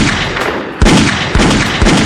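Three sharp gunshots ring out at steady intervals, each a loud, close crack followed by a short rumbling tail over a dense noisy background.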